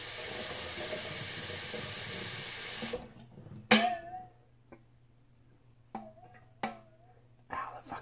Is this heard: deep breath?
no